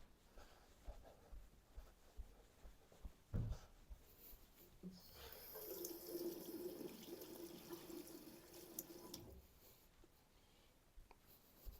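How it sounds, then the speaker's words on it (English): A Winsor & Newton paintbrush being wetted in water, a quiet swishing and rinsing swirl for a few seconds amid faint tapping, near and soft. "I'm actually just going to quickly wet the Windsor Newton again."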